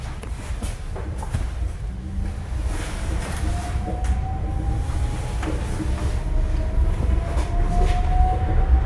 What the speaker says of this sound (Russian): Train departs to Sheremetyevo 2.